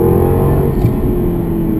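Loud, steady engine roar from a 2013 Jaguar XKR accelerating at full throttle in second gear, heard from close by.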